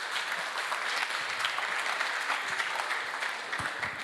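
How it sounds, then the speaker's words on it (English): Applause from a conference audience at a DePIN industry event in Berlin, a steady wash of many hands clapping that holds evenly for about four seconds with no voices over it. "let's give a round of applause to Vuk."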